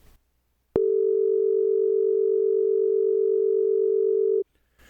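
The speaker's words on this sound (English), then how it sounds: "there were two different tones, but you really couldn't discern one tone from the other because they're too close together" Two test tones pitched very close together sound at once, merging into a single loud, steady hum that starts abruptly, holds for about four seconds, then cuts off cleanly.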